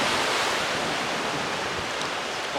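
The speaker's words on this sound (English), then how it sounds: "the waves are quite magnificent" Big Atlantic waves break and roar continuously at Zennor Cove on the north Cornish coast near Land's End, a loud, dense wash of surf with no voices.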